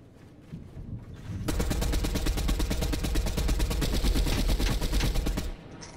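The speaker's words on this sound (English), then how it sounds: "I'm getting sniped at at the same time" Rapid automatic gunfire fires in a sustained burst of about four seconds in a Fortnite match, steady and fairly close, with faint quieter sounds before and after.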